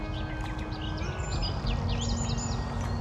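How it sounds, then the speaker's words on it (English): A garden warbler sings a quick, varied warbling phrase over a steady low rumble of background noise, moderately distant and fairly faint. "that garden warbler's just busy babbling away"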